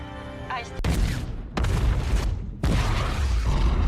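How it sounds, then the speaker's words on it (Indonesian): A massive explosion destroys the giant robot Striker Eureka in the Pacific Rim film: a loud sustained roar, broken by two further sharp blasts, each followed by heavy rumbling. "Ledakan besar pun terjadi yang pada akhirnya menghancurkan Striker Eureka bersama dengan kedua kaiju"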